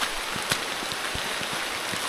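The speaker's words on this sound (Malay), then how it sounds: "Hujan semakin lebat." Heavy rain falls steadily outdoors, a dense, loud hiss that continues throughout, dotted with scattered nearby drop impacts.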